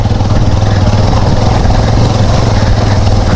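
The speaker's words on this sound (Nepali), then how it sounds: "यस्तो चिप्लिन्छ बाइक भनेको कुरो।" A motorcycle engine drones loud and steady up close as the bike rides off-road over a slippery landslide-damaged track in Sindhupalchok, with a constant low throbbing hum throughout.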